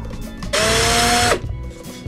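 A power drill boring into a part of a 1/24-scale plastic model car kit whirs steadily for under a second, a high whining tone holding level before it winds down, close by, with no talking.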